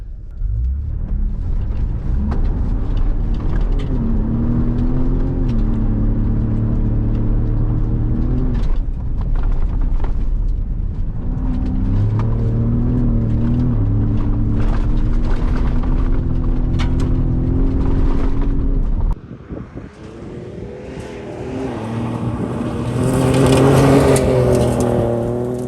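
A Ford Raptor pickup truck's engine drones and revs steadily as it drifts around a turn, loud and close, with the pitch shifting, then dropping off before a rising, strained rev near the end.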